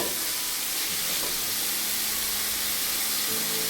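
Four large onions sauté in a pan for kuzhi paniyaram, giving a loud, constant close-up hiss and sizzle that fills the whole moment without a break.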